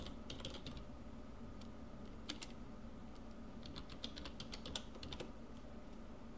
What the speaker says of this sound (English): So let's type hello world.